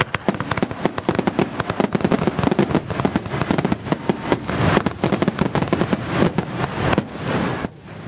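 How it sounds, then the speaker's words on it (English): A fireworks display launched from the top of a dam, with dense, continuous crackling bursts and sharp bangs that follow one another rapidly. The sound is loud and close and runs through the whole stretch before it briefly quiets near the end. "At the end of the day, a fireworks display was launched off the top of the dam for everyone to enjoy."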